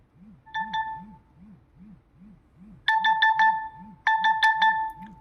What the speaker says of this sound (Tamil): அதே மாதிரி அலாரம் அடிக்குதுங்களா